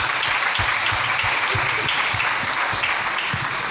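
A church congregation claps for the Lord in steady, dense applause that carries on evenly throughout, loud and close, with no talk over it.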